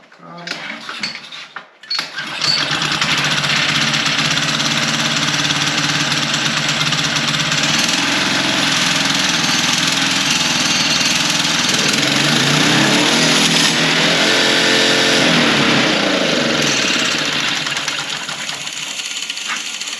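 A small engine on a swap meet mini bike roars continuously at high revs for most of the stretch after a sputtering start, loud and close, with a brief runaway surge before easing slightly near the end.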